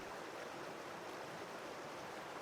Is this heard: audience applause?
no